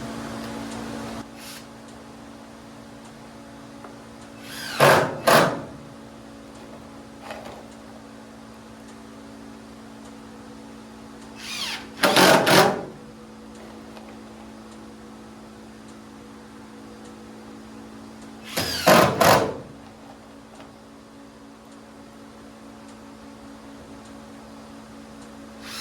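Power driver sinking small 7/8 screws to fasten a wooden gate down, three separate short whirring bursts several seconds apart over a steady background hum.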